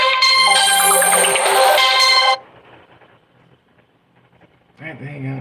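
Loud melodic phone ringtone from an incoming call plays for about two seconds, then cuts off, followed by quiet background and a voice speaking near the end.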